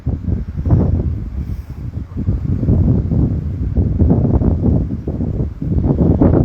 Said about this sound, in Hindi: पर इतनी ठंडी हवा चल रही है इस समय यहाँ के ऊपर।